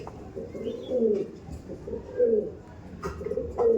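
Pigeons coo in repeated low, throaty phrases, three or four rolling calls at close range over a faint background, from a loft of Andhra, Kalanka and Lambari breed birds, male and female.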